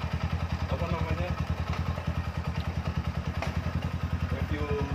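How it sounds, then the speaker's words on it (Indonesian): A 2008 Yamaha Scorpio Z motorcycle idles close by with a steady, rhythmic single-cylinder thump, even and moderately loud throughout. "Gimana dengar suara mesinnya nih? Wah, ini mesinnya masih fresh."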